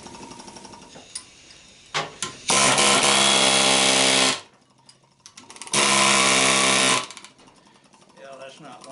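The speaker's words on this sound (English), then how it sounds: "now we'll try to chisel that copper out of there. I got something going on with this air chisel already" An air chisel works at copper windings inside a large electric motor being scrapped, firing in two long loud hammering bursts separated by short taps and a quiet pause.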